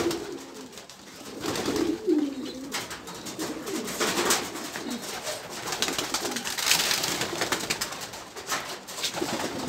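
Pigeons coo repeatedly in a loft or rooftop setting, soft throaty calls overlapping with rustling and wing flutters, fairly close and steady throughout with no talk.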